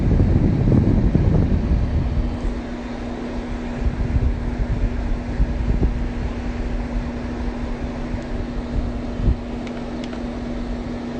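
An Arctic King air conditioner fan runs with a steady broadband whoosh and a constant low hum, a little gusty at the start, then holding an even level throughout with no talking.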